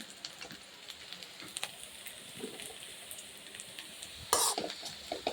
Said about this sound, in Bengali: মুচমুচে করে আলু ভাজা করলাম